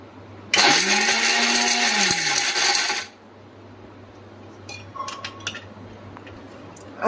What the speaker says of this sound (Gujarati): હવે આને આપણે ગ્રાઇન્ડ કરી લઈએ। અધકચરું ગ્રાઇન્ડ કરવાનું।